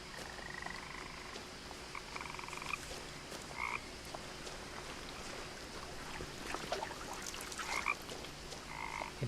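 Frog croaks ring out from a game world in What Remains of Edith Finch, several short bursts scattered across a low, steady outdoor ambience with a faint hum beneath.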